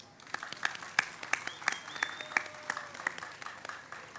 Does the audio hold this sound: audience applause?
yes